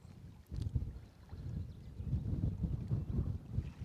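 Wind buffets the microphone on a lake shore at Nant y Moch during fly fishing for wild brown trout, a low rumbling gusty rush that swells and persists for a few seconds.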